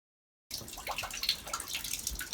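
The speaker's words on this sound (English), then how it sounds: "There's water coming through the ceiling." Water dripping and trickling through a fire-damaged ceiling into a bucket indoors, a steady irregular patter of drops and splashes lasting about two seconds after a brief silence.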